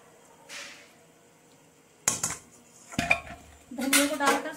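A metal spoon scrapes and clinks against a pot as potato and pea curry with fresh coriander is stirred, in a few short bursts of clatter with quiet gaps between.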